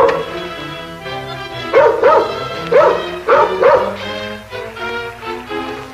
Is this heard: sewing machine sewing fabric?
no